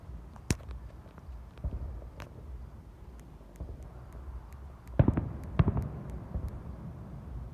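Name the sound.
fireworks exploding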